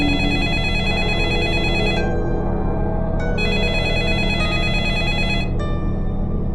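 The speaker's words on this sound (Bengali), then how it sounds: "ফোনটা ধর ধর, না হলে কেটে যাবে।" A telephone rings steadily and loudly with a continuous electronic bell tone over a dense, full background, with no voices heard.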